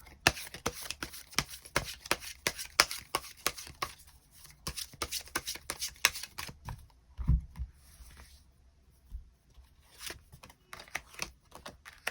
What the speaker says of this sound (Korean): 추가 카드 뽑아보도록 하겠습니다